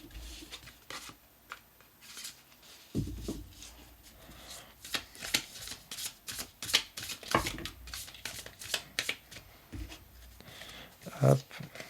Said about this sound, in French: je vais bien le mélanger.